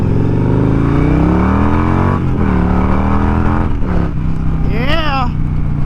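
A 2003 Victory Vegas motorcycle pulling hard in first gear, its engine roaring loud and close as the pitch climbs steadily, drops briefly, then winds up again over heavy wind rush.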